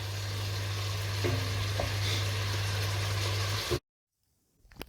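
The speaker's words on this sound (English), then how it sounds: "Bubbling away, chorizo, beef, all the onions and chilies are in there." Chorizo, beef, onions and chilies sizzle loudly and steadily in a pan for several seconds, then the sound cuts off abruptly, leaving near silence with a faint rustle.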